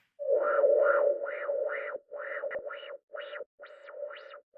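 Synth sample in an FL Studio sampler channel with a filter being swept, giving a repeating pulsing tone whose brightness rises and falls in regular wah-like waves, with short gaps between phrases, played alone.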